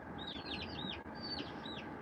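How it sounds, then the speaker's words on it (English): Farmyard chickens cluck and chatter in repeated soft calls, a few birds at moderate distance over a steady outdoor background hum, with no talking. "You want to see the chickens?"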